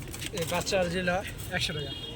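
Domestic pigeons, including Giribaz and other fancy breeds kept for sale, coo softly nearby while someone talks over them.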